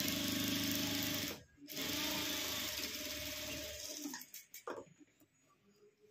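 A sewing machine stitches a narrow fabric strip, running loud and steady with a dense rapid whir, pausing briefly, then resuming before trailing off into a few softer, uneven bursts near the end.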